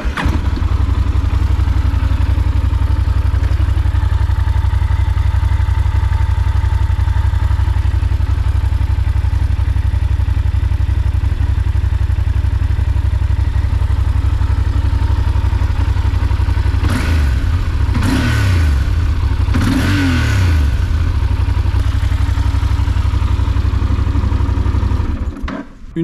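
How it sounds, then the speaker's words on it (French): A Yamaha 900 TDM motorcycle with its stock exhaust idles with a steady low throb, then revs sharply a few times before settling back, close and loud throughout. "Je vais maintenant vous faire écouter le son de l'échappement d'origine."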